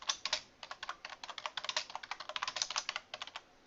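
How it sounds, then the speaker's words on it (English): Fast typing on a computer keyboard sounds close and clear, with a dense, uneven run of crisp key clicks and no talking over it. "I'm typing!"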